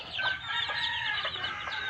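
Chicks and young chickens cluck and peep steadily during feeding, a dense, overlapping chorus of repeated calls heard up close without any talking.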